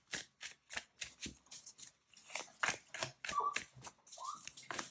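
Tarot cards shuffled by hand, a quick series of crisp riffling bursts and soft card slaps, close and fairly quiet, with no talking.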